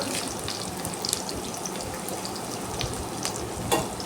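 Curry leaves frying in hot oil for dry fish thokku, a continuous close crackling sizzle with scattered sharp pops and a brief louder spatter near the end.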